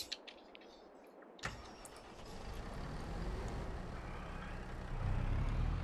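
A tractor engine in the Farming Simulator 22 video game starts with a sharp click and then settles into a steady low rumble. The drone grows louder and heavier as the cultivator begins working.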